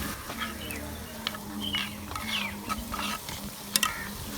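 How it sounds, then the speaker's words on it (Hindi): Green chili and garlic paste frying in a hot kadhai for aloo methi, a steady close sizzle with scraping stirs and a few sharp clinks, no talking. "सब्ज़ मिर्च और लहसुन के पेस्ट को भी हम"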